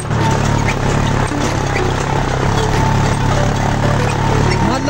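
Tractor hauling sand near Yulung Pokhari, its engine a loud, steady, close droning rumble with a continuous mechanical hum that never lets up, as if heard from aboard, with faint voices in the background.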